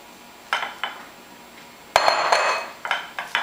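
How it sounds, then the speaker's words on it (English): A granola mixture is dumped and scraped into a foil-lined, cooking-spray-coated square glass pan, giving a few close clinks and a crinkling rustle of foil, with no talking. "We're going to dump it into our foil-lined and then cooking spray sprayed square pan."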